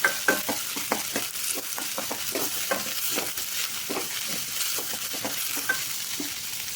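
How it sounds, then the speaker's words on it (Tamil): Onions sautéing in a hot pan for a Tamil lentil dish, a constant sizzle broken by repeated rhythmic scrapes and taps of a spatula, close and alone without speech. "அந்த அளவுக்கு நல்லா வெங்காயத்தை வந்து நல்லா வதக்கிக்கோங்க"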